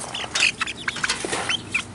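Chickens cluck nearby in short, scattered clucks and squawks, irregular and moderately loud.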